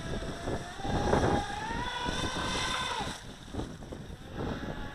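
Feilun FT011 brushless RC speed boat racing across choppy water, a rising and falling whine of the motor over steady hiss and splash from the rooster tail behind it, with wind buffeting.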